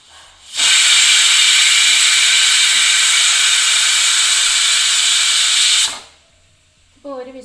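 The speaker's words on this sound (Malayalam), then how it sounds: "ഇപ്പോൾ 1 വിസിൽ വന്ന് കുക്കർ ഓഫ് ചെയ്ത് വെച്ചിട്ടുണ്ട്." A pressure cooker holding Kerala-style vegetable biriyani lets out one long, loud, steady steam whistle for about five seconds, then it cuts off abruptly and a voice starts speaking.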